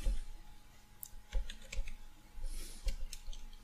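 Keys clack on a computer keyboard as code for a GCD (PGCD) algorithm is typed, giving an irregular run of close, crisp clicks with brief pauses and no talking.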